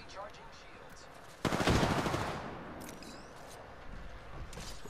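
A sudden loud burst of automatic weapon fire from the video game Apex Legends lasts about a second, then fades into a softer tail with faint later shots and background game noise.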